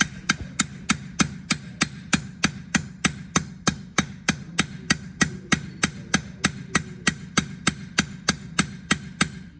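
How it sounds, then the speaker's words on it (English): Hammer peening a metal frame handle: a steady run of about thirty sharp, ringing strikes at an even quick pace, close and loud, with no talking. "So I can hit it once or twice and set it. I can hit it over and peen it."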